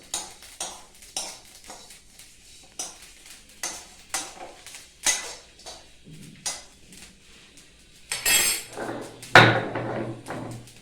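Spices for a raw mango pickle are stirred in a hot wok off the flame, giving a steady rhythm of close, sharp metallic scrapes and knocks, the last few louder and harsher.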